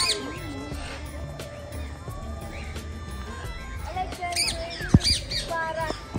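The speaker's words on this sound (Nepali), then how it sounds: "ए यहाँ त सुगा रहेछ" A parrot at Kathmandu Central Zoo in Jawalakhel lets out repeated sharp, harsh squawks over a busy crowd murmur while people talk nearby.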